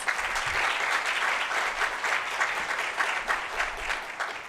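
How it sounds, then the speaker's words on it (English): Audience applause at a St. Pete, Florida economic address, a steady wash of many hands clapping for several seconds at moderate distance, with no voices over it. "let's give her a hand of applause"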